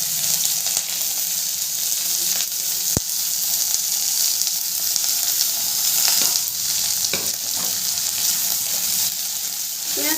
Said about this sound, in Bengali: পেঁয়াজটাকে আমি একটু ভাজা ভাজা করব